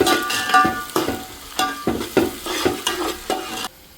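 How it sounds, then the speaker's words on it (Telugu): Onions and curry leaves fry in hot oil while a spatula stirs in a quick, rhythmic series of scraping strokes over a close crackling sizzle that cuts off abruptly at the end. "మనం కట్ చేసి పెట్టిన ఆనియన్స్ కూడా వేసేసుకుంటున్నాను. కరివేపాకు కొంచెం ఫ్రై చేసుకోవాలి."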